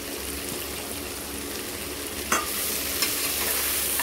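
Ingredients for a country chicken biryani sauté in a hot pan: a constant dense sizzle, close by, with a single sharp scrape of stirring midway and no talking.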